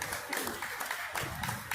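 A crowd claps at a public scene outside, a dense, steady patter of hands close by that fills the whole moment, with no voices standing out.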